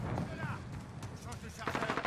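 Call of Duty: Modern Warfare gunshots crack in quick, fairly faint reports mixed with game effects, with someone speaking over them.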